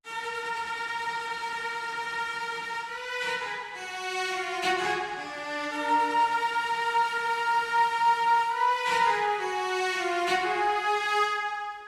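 A sustained cello line doubled by woodwinds, the two blending into one smooth, full melodic voice that moves through held notes, steady and moderately loud throughout with no talking.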